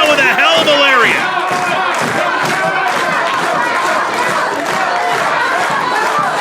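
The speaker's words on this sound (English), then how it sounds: "The crowd chanting for Jobz" A loud wrestling crowd at a GMW show chants for the wrestler Jobz, a dense roar of many voices with rhythmic shouting and occasional thuds, close and continuous.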